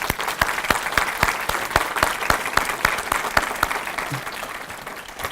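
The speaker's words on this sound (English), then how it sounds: "Let's give her a round of applause." Steady applause from an audience at a statue dedication fills the clip, with a prominent rhythmic clapping beating through the dense crowd sound.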